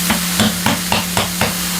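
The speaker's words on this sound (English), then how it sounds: "And here's a sizzle." Hot dogs sizzling on a barbecue grill, a steady crackling fry noise with a constant hum beneath and about six regular, evenly spaced scraping or tapping bursts close by.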